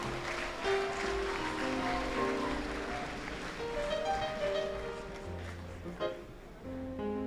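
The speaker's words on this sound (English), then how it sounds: "Give a round of applause again for Tyler." Steady audience clapping at a boys' high school valedictory service fills the space, with faint music tones running underneath.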